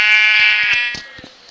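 A sheep in a Minecraft-style game gives a single loud, nasal, wavering bleat that fades out, with soft clicks behind it.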